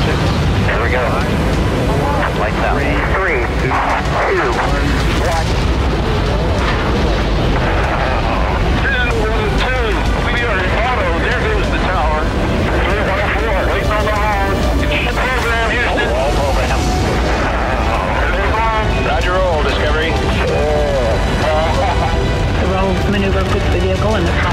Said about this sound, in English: We are go for main engine start.